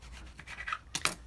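A serrated knife saws through the edges of baked puff pastry in a few short, crisp scraping strokes, close and fairly quiet.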